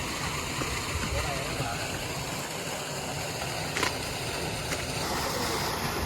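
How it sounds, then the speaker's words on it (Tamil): A small waterfall at a bathing spot in Wayanad pours lightly, a steady broadband rush of falling water filling the scene, with a couple of faint clicks over it. "சின்னதாக தான் லைட்டாக தண்ணி விழுது"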